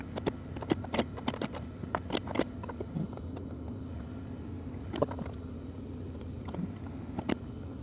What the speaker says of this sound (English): Let's pop the keys back in.